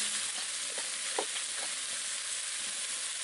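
Kohlrabi filling seasoned with sugar and pepper roasts in a pan, giving a soft, even hiss with a few faint taps of stirring throughout.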